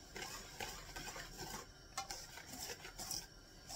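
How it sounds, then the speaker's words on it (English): A whisk scraping and clinking quickly around a pot as cocoa chocolate syrup is stirred to break up clumps, soft and close with no talking. "I like to whisk it together and try to get rid of a lot of those, you know, the big clumps that you get from your cocoa"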